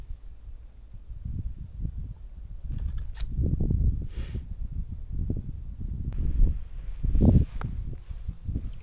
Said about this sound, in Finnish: Kyllä tuulee.